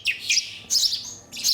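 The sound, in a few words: starling nestlings chirping in rescue center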